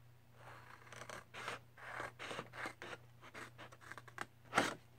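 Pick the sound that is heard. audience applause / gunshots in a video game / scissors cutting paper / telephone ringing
scissors cutting paper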